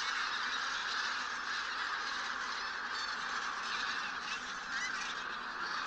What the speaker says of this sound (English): For the bean and white-fronted geese, the Barycz Valley is an important stop in their migration towards their breeding sites in the far north.